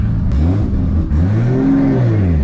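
A 1000+ HP Toyota Supra MK4 engine revs steadily near 2,800 RPM, a loud, close, continuous drone whose pitch rises and falls in smooth waves, with no talking over it.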